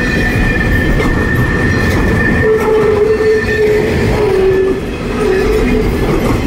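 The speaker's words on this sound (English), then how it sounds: "CSX's M426 clearing here. Rosemont Street, Haverhill, Massachusetts, being passed by the Amtrak Downeaster." CSX freight train M426 rolls past at Rosemont Street in Haverhill, Massachusetts, as the Amtrak Downeaster passes, a loud continuous rumble of wheels and cars with a faint squeal rising midway and no talk.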